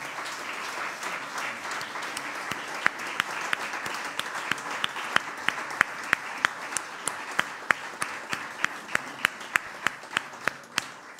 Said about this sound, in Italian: vi chiedo di dedicare alla figura del Presidente della Repubblica il più caloroso e rispettoso degli applausi.